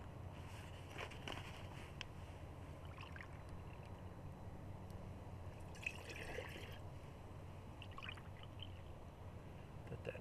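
Water poured from kuksa cups into a pot outdoors in a bushcraft setting, a soft low trickle and splash under steady background noise, faint and continuous.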